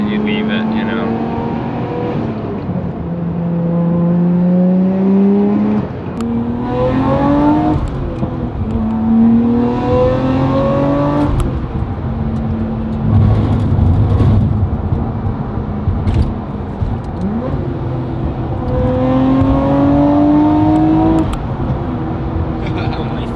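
A Nissan R34 GT-R fitted with universal valved mufflers and a free-flow downpipe pulls hard through repeated rising gear sweeps, its exhaust note climbing and dropping with each shift, loud and close, while people talk over it.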